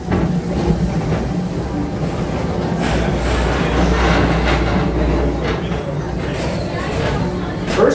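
The Tomorrowland ride train at Magic Kingdom rolls along with a low, steady rumble and faint clacking under prominent onboard narration, with crowd noise around.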